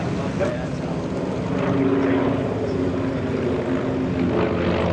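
Steady droning roar of a warbird with radial engines passing close overhead at an airshow, engine note rumbling continuously with a slight swell midway, and a voice faintly audible beneath it.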